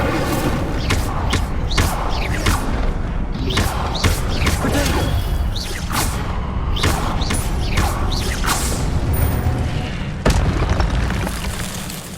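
A run of repeated booming, whooshing bursts from the Incendio fire spell in the Hogwarts Legacy game on PS5, loud and dense across the whole stretch with sharp pops every second or so over a constant low rumble.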